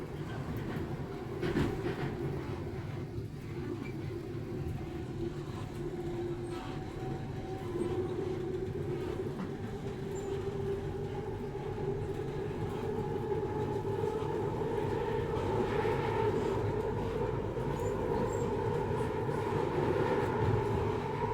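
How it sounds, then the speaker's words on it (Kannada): A metro train rumbles steadily along the track approaching Mahatma Gandhi Road station, with a continuous low roar and faint rattling, no voices, the hum rising slightly toward the end. "ರೈಲು ಈಗ ಮಹಾತ್ಮ ಗಾಂಧಿ ರಸ್ತೆಗೆ ತಲುಪಲಿದೆ"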